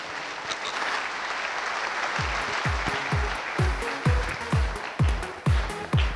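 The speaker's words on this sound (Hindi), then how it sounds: "तो मैं जरूर चाहूंगा हमारे सभी डायमंड लीडर्स के लिए और रेड क्लब के लिए जोर तालियां होनी चाहिए।" Audience at a business motivational event applauds: a low crowd murmur gives way to loud, rhythmic group clapping in a steady beat that grows stronger.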